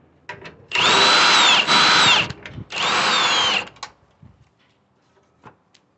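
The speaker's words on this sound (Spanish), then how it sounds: "Quitando esos tres tornillos" A power tool removes 13 mm and 16 mm bolts from the engine mount bracket of a 2011 Nissan Sentra 2.0, giving three loud, close whirring bursts with brief pauses, followed by a few faint clinks.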